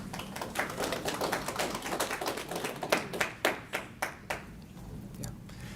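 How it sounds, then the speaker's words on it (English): Audience clapping at a school board meeting: a room full of people applauding, dense and steady at first, then thinning to a few scattered, isolated claps near the end. "if we could maybe not clap in between"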